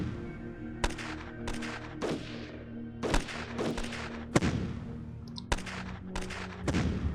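Units trade gunfire in the Shadow Empire strategy war game, a series of sharp shots and heavier booming reports at irregular intervals, some with trailing echoes, over a low steady hum.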